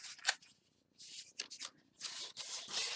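Paper flaps of a handmade greeting card gift box being folded in, a few crisp rustling creases and rubs of card stock in bursts, close and fairly quiet, with no talk.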